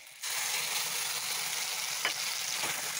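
A blended paste of garlic, onion and green chili fries in a pan, a dense, even sizzle starting abruptly and holding steady at close range, with a couple of faint clinks from stirring and no speech.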